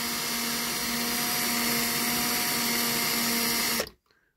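A power drill whines steadily at high speed for several seconds while enlarging a hole in metal on a diecast toy car, then cuts off abruptly into near silence.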